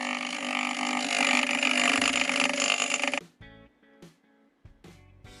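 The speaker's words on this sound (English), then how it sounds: "I use a stone wheel and grind the acrylic" A stone grinding wheel shapes acrylic for a motorcycle screen mount, a loud, harsh continuous grind for about three seconds that then breaks off into a few short, quieter bursts.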